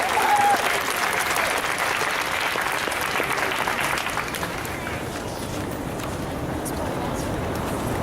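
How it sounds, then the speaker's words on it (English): A rally crowd of students and supporters at the Texas state capitol applauds in a loud, continuous wash of clapping that fades slightly toward the end, with voices underneath. "Give yourselves another round of applause."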